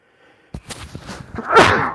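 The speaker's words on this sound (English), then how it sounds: "I've been sneezing all kinds today." A single sneeze close to the microphone: a short breathy intake builds into one sharp, loud burst near the end, with no speech around it.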